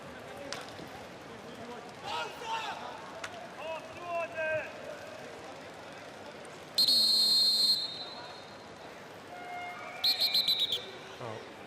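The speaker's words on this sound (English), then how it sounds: "A few loud pips on the whistle here." At a men's field hockey World Cup match in The Hague between Germany and Argentina, a referee blows a few loud, shrill whistle pips, one burst near the middle and a quicker cluster near the end, over crowd noise and brief shouts.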